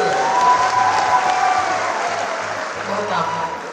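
Dense, steady applause from a poetry event audience, sustained at an even loudness across the whole stretch and easing slightly toward the end, with no separate voice rising above it.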